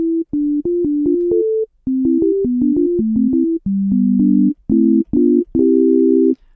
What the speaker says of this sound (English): I can set this to be a sine wave